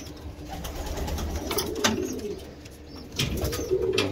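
Racing pigeons in a loft coo softly and repeatedly, low murmuring calls close by, with occasional rustles and light thumps in the background.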